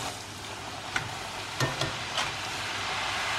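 Sweet diamond cuts fry in hot oil, a soft, even bubbling sizzle with a few sharp clicks near the middle, fairly quiet and without any talking.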